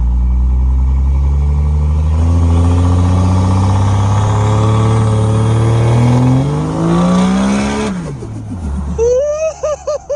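A 1000-horsepower Cummins diesel engine revs hard, its loud, close roar climbing steadily in pitch before dropping sharply and settling into a rough, choppy idle.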